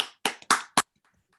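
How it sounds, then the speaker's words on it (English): Sparse applause follows a presentation: a few sharp, close hand claps, about four distinct bursts in just over a second, then quiet. "Can I ask for a round of applause first?"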